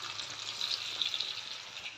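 Chicken pakora deep-frying in hot oil, giving a steady, dense bubbling sizzle that stays even and close throughout, with no voices.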